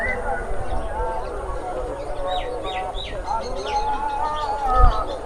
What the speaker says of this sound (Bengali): এই যেটা ঘুঘু পাখি